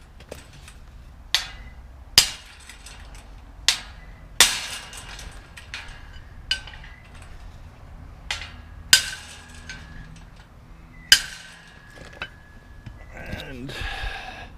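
Hammer blows on a chisel straightening a bend in salvaged metal: about ten sharp, separate metallic strikes spaced a second or two apart, fairly close, with quiet gaps between them.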